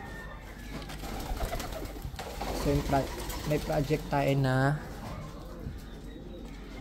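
Ice pigeons cooing in a loft, a short run of soft repeated coos in the middle, partly overlapped by someone talking nearby.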